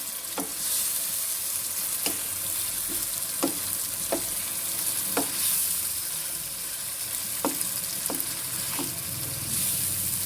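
Chicken pieces fry in hot oil with spices for a chicken daal mash dish, giving a steady sizzle broken by about a dozen sharp clicks of a spoon stirring the pan.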